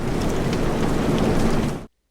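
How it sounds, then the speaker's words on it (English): Stormy weather with steady heavy rain and rumbling thunder, loud and continuous, before it cuts off abruptly near the end. "The weather was stormy in August."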